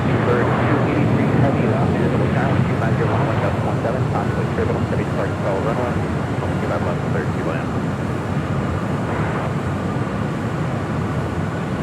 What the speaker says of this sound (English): KLM, the Dreamliner, heading back to Amsterdam